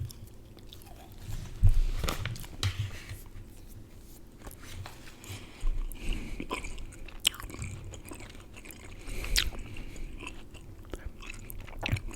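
Big League Chew bubble gum being chewed close to the mic, soft wet smacks and squishes recurring irregularly throughout at a quiet level with no talking.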